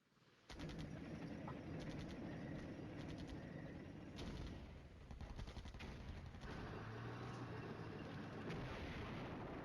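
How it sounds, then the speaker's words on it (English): Artillery shelling and distant gunfire rumble continuously in the wargame Flashpoint Campaigns: Red Storm, with dense overlapping booms and clusters of sharp cracks filling the whole stretch. "Still shelling stuff out in the north. That artillery is doing wonders."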